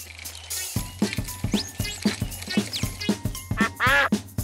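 Cartoon duck quacking repeatedly in an even rhythm, about eight loud, close quacks, ending in a longer drawn-out quack, with music playing underneath.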